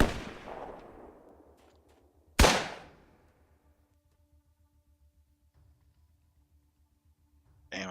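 Gunfire in the video game Atom RPG: a sharp shot opens, then a second loud report follows a couple of seconds later and its echo fades into a quiet hum, with another burst starting at the very end.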